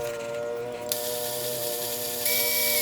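A drill bit bores into a part during work on an Evo 9 transmission, giving a steady whirring hiss that grows suddenly louder and harsher as it bites.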